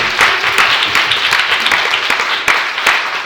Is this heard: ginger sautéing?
no